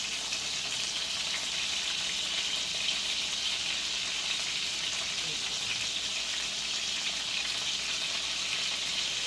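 Homegrown garden onions fry in a pan with a steady, bright sizzle that holds evenly throughout, close by and continuous with no pauses.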